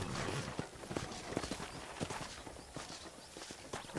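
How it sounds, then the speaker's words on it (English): Horse hooves clip-clopping at a steady walking rhythm while riding in Red Dead Redemption, a regular series of close, crisp hoof falls over a faint ambient background. "let's see if you can still ride a horse"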